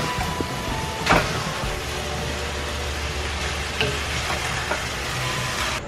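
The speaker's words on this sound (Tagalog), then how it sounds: "Mix natin together para yung lasa ng oyster sauce ay humalo din sa tofu." String beans and fried tofu being stirred in oyster sauce in a pan, a steady soft sizzle with a few scraping stirs of the utensil against the pan, fairly close and continuous.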